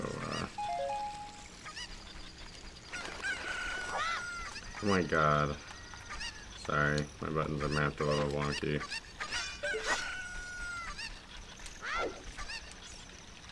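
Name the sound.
chicken (cucco) clucking in the video game Zelda Ocarina of Time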